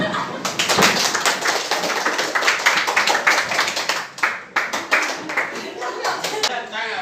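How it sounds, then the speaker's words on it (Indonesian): A group claps hands together in a steady, fairly quick rhythm for several seconds, loud and close, with brief pauses and faint voices underneath. "Tepuk tangan."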